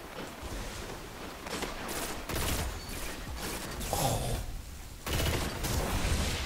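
Sustained pulse rifle gunfire in the Destiny video game on PS4, dense bursts of rapid shots layered over loud game action, continuous and close with no speech.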